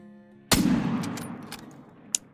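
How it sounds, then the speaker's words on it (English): A single hunting rifle shot in theHunter: Call of the Wild, aimed at an ibex about 280 meters away, cracks loudly and rolls into a long fading echo, followed by a brief faint click. "let's actually shoot him first"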